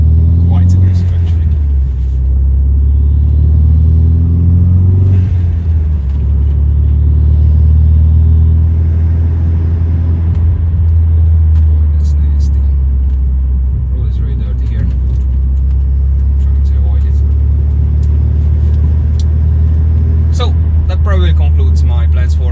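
Inside a moving Renault Scenic RS fitted with an aggressive Helix clutch, a loud, constant low road and engine drone fills the cabin, with a voice talking over it.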